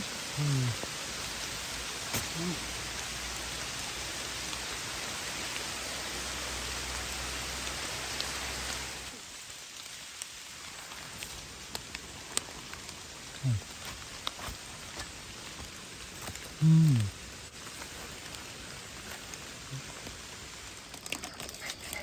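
Steady hiss of rain falling in a forest for several seconds, then a quieter stretch with scattered drips and a few brief voices or calls.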